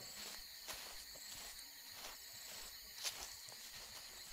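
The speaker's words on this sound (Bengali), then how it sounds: "চারিদিকে ঝিঝি পোকার শব্দ," Crickets chirp steadily at night around an empty school compound, a faint continuous high trill with a few soft clicks, no voices.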